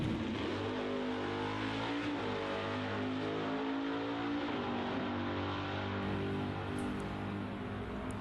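Loud drag racing engines of 2015 Camaros with LS engines roar continuously with rising harmonic whine, several cars accelerating hard together down the track in a C/Stock Automatic class elimination, no voices.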